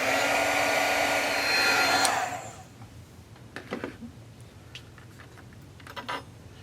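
A heat tool blows with a steady close whooshing hum while melting tinsel embossing powder, then switches off after two seconds, leaving faint clicks and small handling taps.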